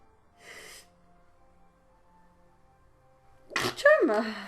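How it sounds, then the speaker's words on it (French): A single sharp sneeze bursts out near the end after a short quiet stretch, preceded by a faint intake of breath. "Ah, je vais éternuer."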